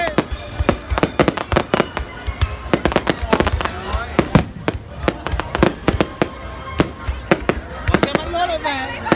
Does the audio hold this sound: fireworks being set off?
yes